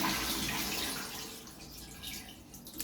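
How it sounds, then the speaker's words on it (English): A new Exeloo public toilet beside Hoppers Crossing station flushes from a standard wall button, giving a soft rush of water. The flush is faint and fades over a few seconds. "How useless the toilet is. Standard wall flush button."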